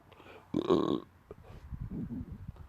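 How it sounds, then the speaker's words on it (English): A man lets out a short, loud belch up close, followed by quieter mumbling talk. "Excuse me, I need to belch."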